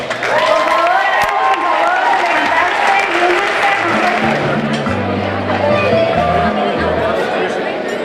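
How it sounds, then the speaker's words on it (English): A room of guests at an evening dessert ceremony gives a congratulatory round of applause for a graduating academy class, steady clapping mixed with cheers and crowd chatter, while a low musical tone drones in partway through. "extend a congratulatory applause to the Nicholas Academic Center class of 2012"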